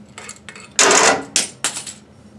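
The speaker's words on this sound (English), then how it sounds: "So you'll undo this clamp." A metal reservoir clamp on a miniDeBEE homogenizer is undone by hand, giving a few close metallic clanks and scrapes in quick succession within a quiet room.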